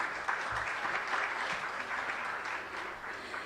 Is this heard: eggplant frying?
no